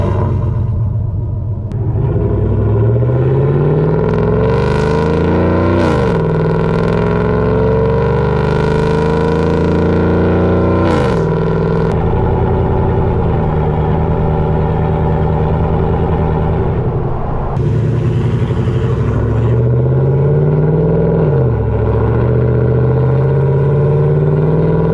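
Loud V8 rumble from a 2014-2018 GMC Sierra/Silverado with a swapped 6.2L engine and cold air intake, revving up and down repeatedly with rising pitch sweeps over a steady drone throughout.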